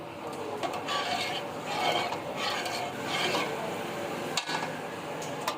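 A spoon scrapes and stirs through thick chickpea curry as spices are mixed in, giving soft rhythmic rasping strokes with a faint sizzle underneath.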